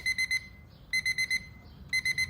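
An alarm clock rings in three repeating bursts of rapid, bright electronic beeps, each a quick run of pulses separated by brief pauses, loud and close in a quiet room.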